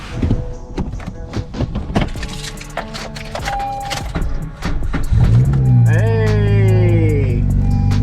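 Car engine cranking and catching after two weeks sitting unused in heavy rain, preceded by door thunks and key handling, then settling into a loud, steady idle close by.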